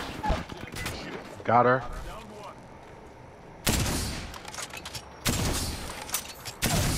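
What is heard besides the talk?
gunfire in Apex Legends video game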